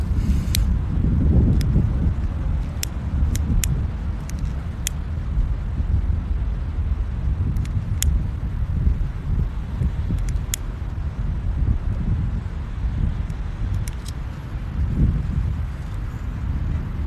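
Wind blowing outdoors by the water, a steady loud rumbling buffet across the microphone for the whole stretch, with occasional faint sharp clicks on top.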